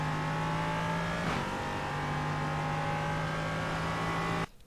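An LMP3 prototype race car engine in the iRacing sim at Sebring holds a loud, steady high-pitched whine under throttle, with a brief flutter partway through, then cuts off abruptly near the end.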